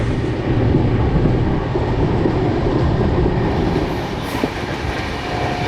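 The Ranthambhore Express rolls toward Ujjain Junction, giving a steady, loud rumble of wheels on rail heard from on board, with faint clickety-clack and occasional squeaks and no voices.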